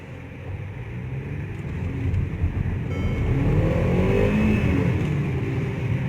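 A Mercedes CLA 250 4MATIC engine revs up and accelerates hard, its roar growing steadily louder and deeper over several seconds, close by.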